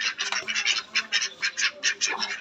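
Ducks quack in quick repeated bursts while eating feed, close and fairly loud, a nearly continuous rhythmic chatter with no speech.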